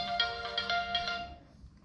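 A mobile phone ringtone goes off during a snapper fishing trip, a bright repeating electronic melody of quick notes, loud and close, fading out after about a second and a half with no talk over it.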